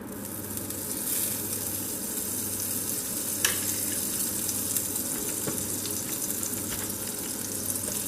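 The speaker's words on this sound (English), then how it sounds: "Now I will add just a tad bit more of butter." Butter melts and sizzles in a hot frying pan with onions and apples, a dense steady hiss that runs unbroken with a couple of faint taps from a utensil.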